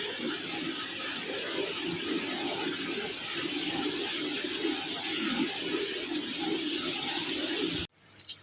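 Tap water runs steadily over shrimp being washed in a sink, a continuous close hiss and splash that cuts off abruptly near the end, followed by a brief clatter.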